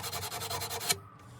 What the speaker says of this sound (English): that's a PU 120, it's 120 grit sandpaper